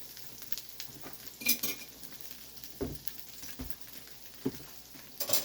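A spoon stirs food in a pan with butter and canola oil, soft sizzling underneath and a few distinct clinks and scrapes against the pan at irregular intervals, fairly quiet and close, with no talking.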